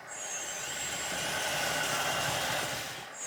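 A LESU 1/14 DT60 RC hydraulic bulldozer plays its simulated engine sound, a moderate, steady whirring drone that swells slightly and fades at the end, heard alone without speech.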